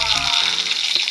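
Shallots and green chillies frying over a low flame in a pan, giving a steady, close hiss of sizzling oil that persists throughout with little variation.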